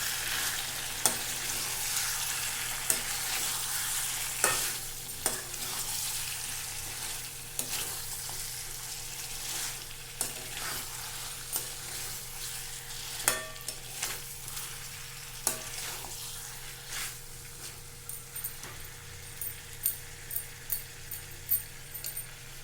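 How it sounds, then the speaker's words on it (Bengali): Chicken curry sizzles on low heat in a pan while a spoon stirs it now and then. Irregular knocks and scrapes ride over a continuous frying hiss, with a quicker burst of clinks near the end. "মাঝে মাঝে নেড়ে নেবো, নাহলে তোড়াটা লেগে যাবে।"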